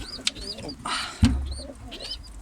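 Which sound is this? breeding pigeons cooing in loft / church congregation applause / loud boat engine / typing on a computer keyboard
breeding pigeons cooing in loft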